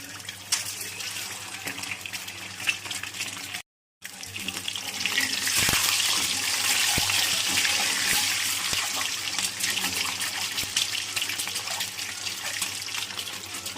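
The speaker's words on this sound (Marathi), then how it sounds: "हे अंड फ्राय करून घेणार आधी त्याच्यात मीठ टाकून घेणार आहे तेलात" Eggs fry in salted oil with a steady close sizzling hiss that briefly cuts out, then swells louder and stays bright and continuous.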